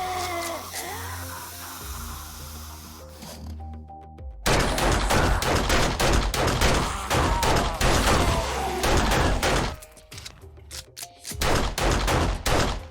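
Rapid bursts of gunfire from the zombie survival game 7 Days to Die, loud dense volleys after a quieter opening, with a brief lull before more shots near the end.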